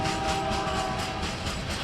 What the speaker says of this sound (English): The train is a reminder on how essential the railroad was to shipping cattle in Montana.